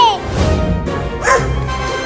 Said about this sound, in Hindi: ये इतना बड़ा कुत्ता कहाँ से आ गया मुझे खाने के लिए?